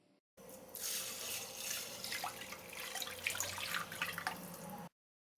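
Running tap water pours steadily into a sink for about four and a half seconds, close and clear with a bright splashing hiss, measured out for cooking rice; no one speaks.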